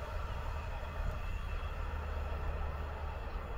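A locomotive rumbles steadily past a railway crossing at close range, a continuous heavy roar of rolling wheels with no voices.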